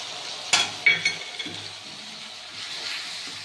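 A spice paste is added to fried potatoes in a pan and stirred. A spoon clanks against the pan a few times, followed by a soft continuous sizzle, and there is no talking.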